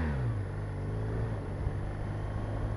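A 2015 BMW R1200R motorcycle's boxer engine roars up close, a deep steady low rumble with a brief rise in pitch at the start, heard alone without talk.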